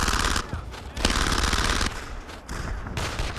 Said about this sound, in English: That machine gun's opening up.